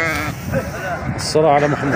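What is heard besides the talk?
Turkish sheep bleating at a livestock market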